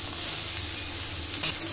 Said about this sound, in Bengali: চাল কুমড়ো খুব সুন্দর করে ভেজে নেব।